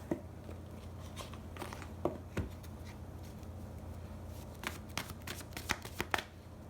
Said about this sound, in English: Let's pull some romance angels cards here.